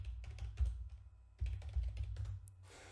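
Keystrokes on a computer keyboard typing a store name into a search bar, two close bursts of quick, uneven clicks separated by a short pause, with no talk.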